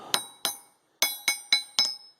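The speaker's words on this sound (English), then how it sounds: "that's a pretty heavy hand sledge there, and I tap it." A heavy steel-handled hand sledge taps a steel kingpin in the steering knuckle of a 1948–53 Dodge truck: six sharp, ringing metallic strikes, close and clear, in two groups with a short pause between them.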